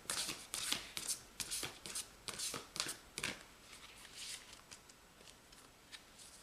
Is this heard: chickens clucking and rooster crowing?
no